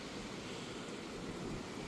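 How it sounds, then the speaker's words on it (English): A creek flowing after about an inch of rain makes a faint, continuous rushing wash with no voices. "So there was still water down in this creek,"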